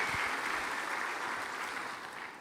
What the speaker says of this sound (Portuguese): Aplausos aqui para o pessoal